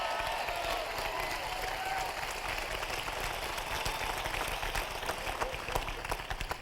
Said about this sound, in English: Whenever we clap with enthusiasm and excitement.